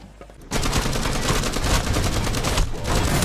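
Gunfire in the tactical shooter Rainbow Six Siege, a loud continuous burst of automatic shots that erupts after a brief quiet start and keeps hammering close by, with a slight dip near the end.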